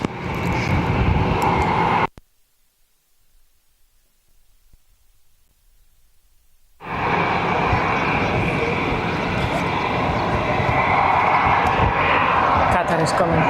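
A Cathay Pacific airliner at Barcelona airport roars loudly and steadily with broadband engine noise, cut by a stretch of near silence before returning at full strength.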